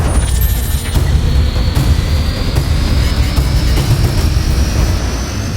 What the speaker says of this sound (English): New Kubota diesel engine ZT Plus.